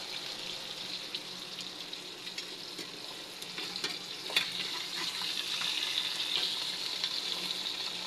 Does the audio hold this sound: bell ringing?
no